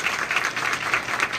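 A networking event audience applauds a panelist, with sustained clapping from a roomful of people, brisk and fairly close.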